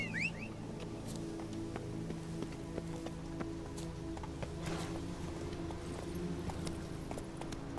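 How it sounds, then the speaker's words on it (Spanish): Horse hooves galloping cross-country in The Witcher 3: Blood and Wine, a steady run of clip-clop strikes under constant ambient game noise and rain-like texture, fairly faint throughout with no talk. "Vamos a ir con el caballo, con Sardinilla."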